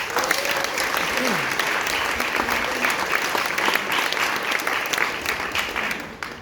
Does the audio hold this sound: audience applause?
yes